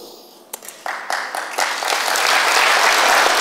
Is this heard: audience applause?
yes